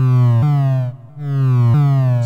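A sustained synth tone from a 1010music blackbox jumps in pitch twice under an LFO, with a brief dip in level between the jumps, loud and alone.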